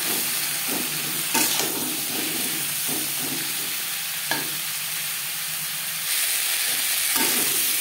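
Pointed gourd (potol) pieces tossed with turmeric and salt fry in a pan with a steady, close sizzle, broken by occasional scraping stirs of a spatula.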